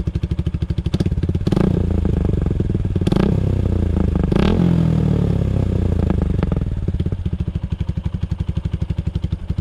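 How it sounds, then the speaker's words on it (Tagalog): A Suzuki Gixxer motorcycle with a worn Akrapovic full-system exhaust idles close by with a rapid, clattery exhaust pulse, revving up and down several times before settling back to idle. "sa ating exhaust naman ay medyo pagod na yung tunog niya"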